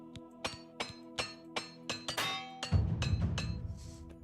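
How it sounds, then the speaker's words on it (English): In Oblivion Remastered, a repair hammer is used on Daedric armor, giving a run of sharp, evenly spaced metallic clinks and thunks, with a denser rumbling clatter near the end. "Then you repair hammer them."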